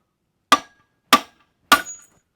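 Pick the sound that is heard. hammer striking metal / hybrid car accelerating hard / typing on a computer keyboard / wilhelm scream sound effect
hammer striking metal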